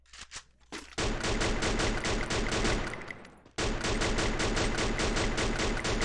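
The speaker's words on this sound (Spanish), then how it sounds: "Disparos, ¿dónde?" Gunfire in the Free Fire shooting game: a few scattered shots open, then dense, rapid bursts of automatic fire run on, break briefly, and resume, loud and continuous.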